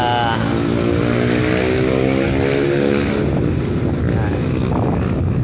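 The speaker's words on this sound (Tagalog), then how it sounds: "Isang aeroplano." A propeller airplane drones loudly and steadily, its engine hum rising and falling slightly as it passes overhead, with wind rumbling on the microphone.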